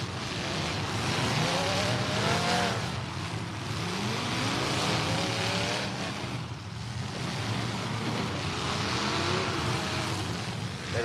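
A race car engine roars nearby during a demolition-style motorsport event, revving and pitch-sweeping up through a gear change, with continuous loud engine noise and crowd-like din throughout.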